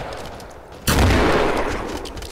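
Gunfire in the video game Killing Floor comes as a sudden sharp burst of shots that cuts in abruptly and then rings out with a fading tail.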